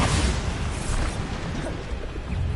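The Bombarda spell in Hogwarts Legacy goes off as a loud, rumbling blast that fills the whole clip and slowly fades, with no voices over it.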